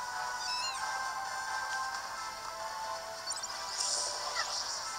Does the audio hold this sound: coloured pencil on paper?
no